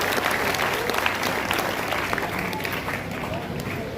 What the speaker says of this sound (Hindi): आप सब प्रीति जी के स्वागत में तालियां बजाएं